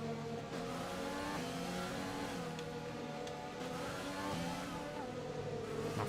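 Several Formula 1 cars at a race restart in the F1 2020 video game, with engines revving and climbing in pitch together and tires briefly squealing, while a voice is faintly heard underneath.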